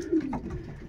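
Racing pigeon cooing in a loft, a brief low, soft coo over faint background noise.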